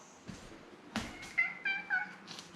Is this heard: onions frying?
no